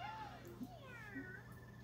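Cat Luigi meows in Super Mario 3D World, a few bright, sliding video-game cat calls over a steady game music bed, close and clear.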